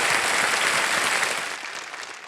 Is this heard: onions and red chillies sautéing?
no